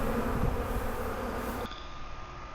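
Honey bees buzz around a 5-frame nuc and a hive body as they are installed, making a dense, close, continuous drone that cuts off abruptly into a quieter hum partway through, with no speech.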